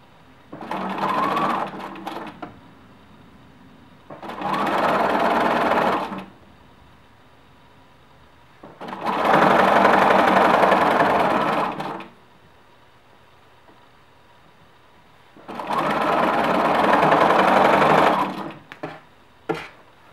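A domestic sewing machine stitches a knit T-shirt neckband in four bursts of steady whirring, each lasting two to three seconds, separated by short pauses and small handling clicks. It sounds close and moderately loud, with no talking.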